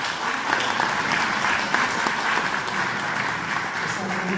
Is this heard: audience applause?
yes